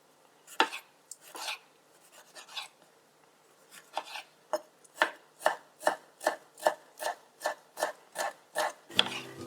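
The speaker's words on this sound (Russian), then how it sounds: "Небольшими кубиками порежу 2 соленых огурца." A knife dices pickled cucumbers on a cutting board, starting with a few irregular cuts and then settling into a quick, steady series of crisp, close chopping taps.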